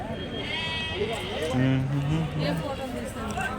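Goats bleat in wavering cries amid a busy outdoor goat market crowd in Kadiri, with people chattering around them and the animals fairly close.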